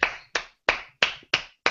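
Six sharp claps in an even, quick rhythm, close and crisp, each decaying fast, with no talk.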